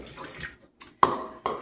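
Water splashes briefly into a measuring cup in short pours, broken by pauses, close by and fairly quiet.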